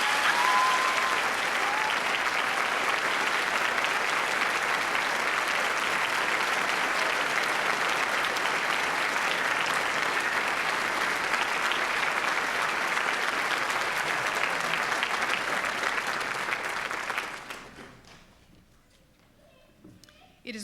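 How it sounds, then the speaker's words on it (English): Audience at a college commencement ceremony applauding the graduating MA class, sustained dense clapping from a large crowd that holds steady for about seventeen seconds before fading out to near silence. "please give a warm ovation to MCAD's MA class of 2013"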